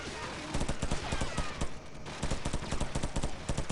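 Rapid bursts of suppressed M4 rifle fire in Call of Duty 4: Modern Warfare, quick muffled shots in two volleys with a short pause between, over a constant game backdrop.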